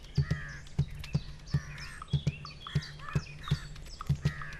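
A crow caws repeatedly in short, harsh bursts, fairly close, with a steady rhythm of calls and some faint chirps in the background.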